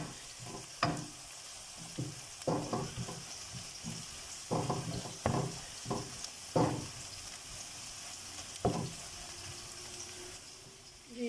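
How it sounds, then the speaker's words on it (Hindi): Sliced onions brown slowly in a pan over low heat, giving a soft, quiet sizzle with intermittent stirring scrapes and knocks from a spoon. "इसलिए आंच हल्की रख के आप प्याज ब्राउन करें।"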